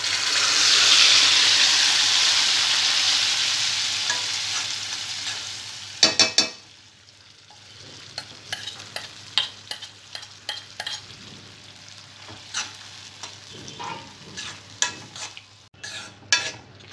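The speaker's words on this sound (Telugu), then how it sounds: "తాలింపు బాగా ఫ్రై అయిన తర్వాత ముందుగా ఉడికించుకున్న పప్పు వేసుకోవాలి" Cooked dal with mixed greens, poured into a fried tempering, hisses in a broad steady sizzle, then settles into scattered clinks and scrapes of stirring in the pan; no voices.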